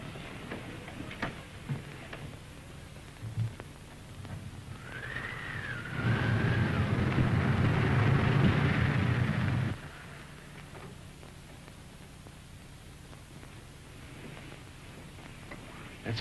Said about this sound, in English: Heldorf's car just left.